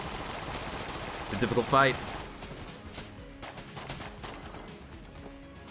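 Rapid gunfire from the Enter the Gungeon video game, a fast burst of shots rising in a chirping sweep, then continuing as steady clatter under a voice talking throughout.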